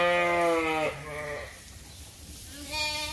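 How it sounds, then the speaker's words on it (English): Sheep and lambs bleat nearby on a farm, a couple of loud wavering calls at the start, then a pause before another bleat rises near the end. "You have a very pretty lamb."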